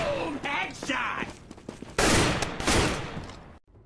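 Rapid gunfire bursts in a game crackle loudly in two dense volleys, following an excited voice, before cutting off abruptly.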